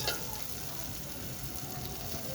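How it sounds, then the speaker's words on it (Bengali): Onion, chili and turmeric sizzle steadily in hot oil while being stirred, a dense continuous frying hiss close up with no pauses. "ছেড়ে দেওয়া হচ্ছে নাড়া হচ্ছে এগুলো মিক্স করা হচ্ছে তেলের সাথে পেঁয়াজ মরিচ হলুদ"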